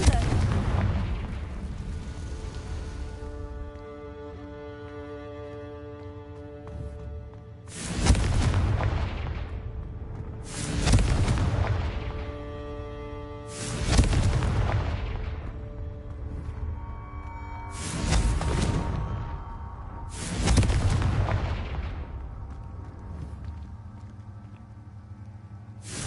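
In the Hogwarts Legacy video game, Confringo blasting spells set off a series of deep, booming explosions about every three seconds, each with a heavy rumbling tail over a low ambient drone.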